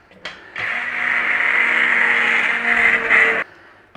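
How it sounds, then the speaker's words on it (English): An immersion stick blender whirs steadily for about three seconds as it purées a red wine jus full of vegetables, loud and close, starting and stopping cleanly with no talk over it. "we're taking a stick blender, an immersion blender, and we're going to blend that in there"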